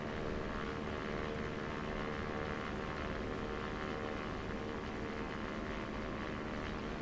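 Aircraft engine in X-Plane 11 during a flight over Iceland, a constant dense propeller drone at an even level with no change in pitch, steady and unbroken throughout.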